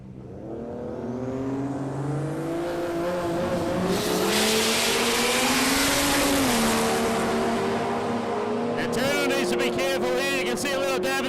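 Drag racing cars at Palmyra Raceway in a 650 shootout, an XR6 Turbo against an XR Falcon Ute, roar steadily down the strip, with rising engine notes and a tire squeal near the end under a raised commentator voice.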